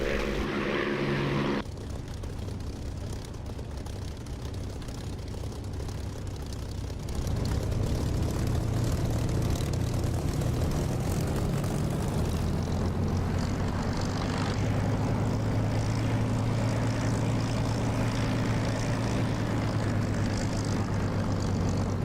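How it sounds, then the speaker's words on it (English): Aircraft engine in the DCS flight simulator spools up for takeoff, a steady propeller-driven drone that rises in loudness after a brief opening and holds a sustained low hum throughout. "Okay, I'm going to jump in my aircraft. Get airborne."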